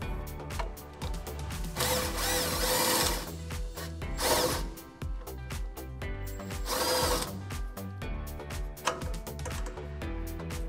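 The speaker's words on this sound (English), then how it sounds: "we can run out this bolt with our 21mm gun" A 21mm impact gun running out a bolt on a Dodge RAM 1500 front hub during a leveling kit install, loud sustained mechanical whirring and rattling bursts filling the clip, up close with no talk.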